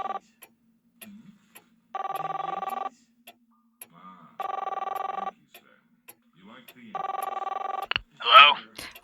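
Telephone ringing heard down the line in a radio drama, three evenly spaced electronic ring bursts with silent gaps between them, then a sharp click and rustle as the receiver is picked up.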